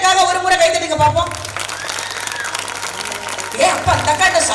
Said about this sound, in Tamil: எல்லா பெண்களும் எனக்காக ஒரு முறை கைத்தட்டுங்க பாப்போம்